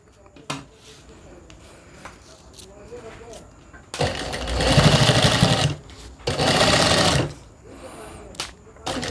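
A sewing machine stitches a homemade fabric backpack, running in two long, loud bursts separated by a short pause, with softer handling noises before and after.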